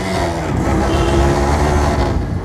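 A modified Yamaha RX 100 two-stroke motorcycle rides through a narrow alley in Nepal, its engine giving a loud, steady low rumble with a buzzing drone throughout and no pauses.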